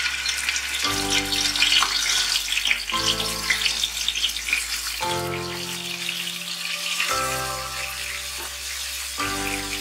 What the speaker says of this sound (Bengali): কড়ায় সর্ষের তেল গরম করেছি, এবার কই মাছগুলো হালকা করে ভেজে তুলে নেব।